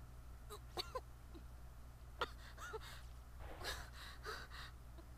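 A Corpse Party game character wakes up with a few sharp gasps and breathy coughs, brief and close, over a steady low hum and faint background noise.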